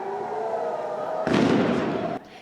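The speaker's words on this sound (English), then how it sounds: "The air raid sirens were followed within seconds by a loud blast." An air raid siren's steady wail in the border town of Kiryat Shmona is cut by a sudden loud blast that roars for about a second, then drops to a quieter tail.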